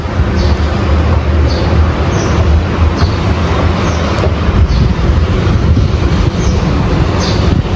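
Inside a moving metro train, a loud, continuous low rumble fills the ride, with faint wheel squeals and rail clicks over the top and no voices.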